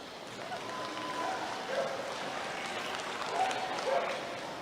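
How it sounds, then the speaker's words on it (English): Spectators at a county 4-H and FFA fair dairy cattle show give a sustained round of applause, a moderate, even patter of hands in a large open space with faint crowd murmur beneath. "Let's give our older showman a nice big round of applause."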